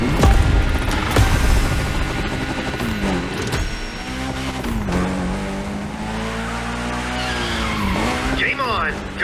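Lancer Evo X drifting in The Crew Motorfest video game, tires squealing in long sweeping slides over a revving engine, loud and continuous with wavering pitch.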